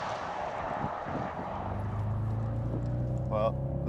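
A Bentley Continental GT V8 engine revs up, its deep throaty growl rising steadily in pitch as it accelerates, with a brief higher whine near the end.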